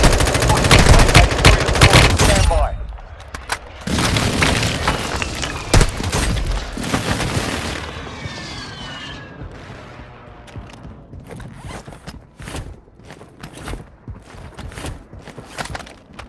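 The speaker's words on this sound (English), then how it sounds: "Enemy precision airstrike. Find cover." Heavy automatic gunfire and booming explosions fill a Warzone Mobile battle during an enemy precision airstrike, dense loud bursts that thin out into scattered shots and thuds.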